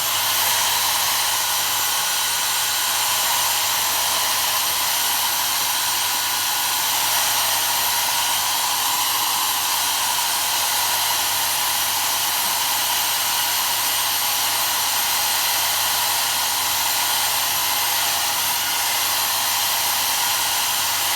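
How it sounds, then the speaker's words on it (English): A hair dryer blows steadily at close range, a loud continuous airy whoosh with a faint whine that holds unchanged throughout, with no talking. "I'm just going to very quickly give a little bit of a dry with my hair dryer"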